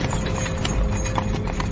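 Steady clip-clop of horse hooves drawing a carriage, a loud, even rhythm of hoofbeats used as a story sound effect, with no voices.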